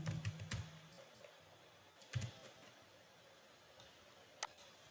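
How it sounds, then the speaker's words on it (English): A computer keyboard is typed in short bursts of quiet clicks, with a pause between clusters and a last lone keystroke, close and soft with no talking. "So I type here my website name"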